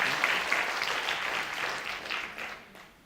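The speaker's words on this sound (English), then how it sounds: "a round of applause" An audience claps after a medical talk on diabetes, a dense, sustained round of applause that gradually thins and fades out near the end.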